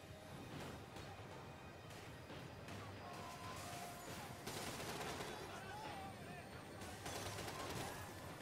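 Enemy gunfire in the Max Payne 3 video game: rapid, dense volleys of shots and crashing impacts, heard faint and distant behind a busy game soundscape.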